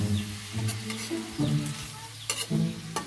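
Galunggong (round scad) fish frying in oil, about two kilos of them, give a steady crackling sizzle with bursts of popping spatter close up.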